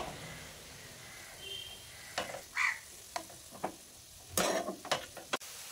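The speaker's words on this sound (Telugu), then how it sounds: "ఇలా నేను చూపించినలాగా కలుపుతూ ఉండాలి." Egg and onions fry in a pan, a soft sizzle under intermittent scraping stirs of a utensil, with clusters of quick scrapes near the end.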